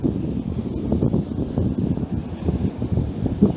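Wind buffets a microphone while fishing from a boat, a close, continuous low rumble with gusty fluctuations and no speech.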